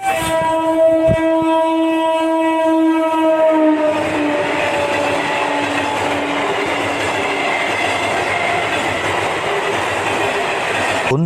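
A train horn blares in long sustained tones, then gives way to the rising rumble and clatter of a train pulling away, loud and close.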